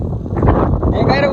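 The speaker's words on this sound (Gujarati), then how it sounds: "એમને પવન બહુ વધી ગયો છે." Strong wind gusting outdoors at a hilltop kite-flying spot in Saputara, buffeting loudly and close against the microphone for a brief moment.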